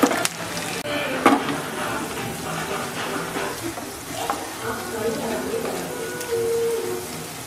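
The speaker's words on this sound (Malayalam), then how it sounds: "ഉള്ളിയും വേപ്പലയും ഉണക്കമുളകും ഇട്ടിട്ടുണ്ട്. അത് നമുക്ക് നന്നായിട്ടൊന്ന് ഫ്രൈ ആകണമായിരുന്നു." Shallots, curry leaves and dried chillies frying in oil for a tempering for pumpkin erissery, giving a steady low sizzle with a few sharp clanks of a utensil near the start.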